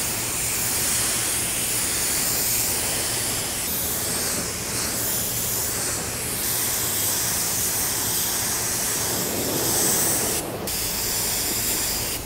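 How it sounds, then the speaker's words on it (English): A spray gun with the fluid set wide open lays a primer-surfacer coat onto a car panel from about four to five inches away, a steady loud continuous hiss running the whole time with a brief break near the end. "So we're going to put our first coat on with about maybe 4 to 5 inches away from the panel."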